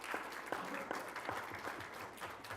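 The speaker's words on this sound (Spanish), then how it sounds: "pido un aplauso para el compañero brasileño que está aquí" Conference audience applauding a Brazilian colleague, a steady wash of many hands clapping at moderate distance, filling the room without pause.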